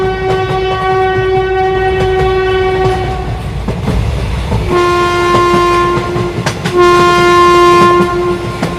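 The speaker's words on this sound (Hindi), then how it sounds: "तभी इन लोगों को ट्रेन की आवाज सुनाई देती है।" A cartoon train pulls into a railway station, sounding long loud horn blasts over clattering wheels, the horn sustained, then pausing and blaring again twice.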